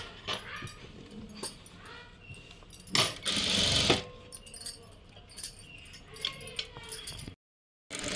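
Domestic sewing machine stitching a boat-neck princess-cut blouse, running in short bursts with pauses and slowing over the stone-work areas; a dog whimpers and yips nearby.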